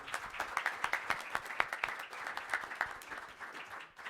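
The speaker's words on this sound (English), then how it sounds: "Let's have another round of applause for all of our presenters" Audience members at a water-data workshop clap for the presenters, a modest scatter of distinct handclaps that thins and fades over a few seconds.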